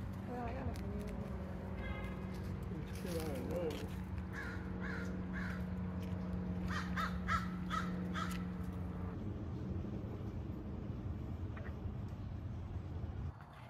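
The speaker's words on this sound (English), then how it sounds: "Like tons of crows heading over this way." A flock of crows caws repeatedly overhead in a cemetery, harsh calls in scattered bursts over a steady low drone and faint vehicle rumble, with people speaking quietly at times.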